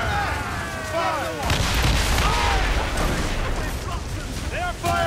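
Booming cannon and mortar volleys thunder through a naval battle in Assassin's Creed Rogue, a dense wash of repeated blasts and rumble with shouted voices over it.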